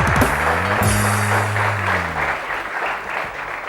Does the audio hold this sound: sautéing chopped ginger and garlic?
no